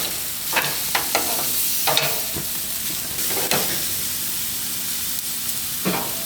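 Flanken-style short ribs sizzle on a Monument grill, a steady loud frying hiss with scattered sharp pops and crackles throughout, no voices.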